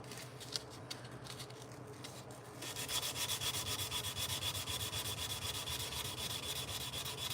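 A knife blade edge worked by hand with 220 grit sandpaper at a forge, starting as quieter scattered rubbing, then settling into a steady, rapid back-and-forth scratchy sanding rhythm, close and alone.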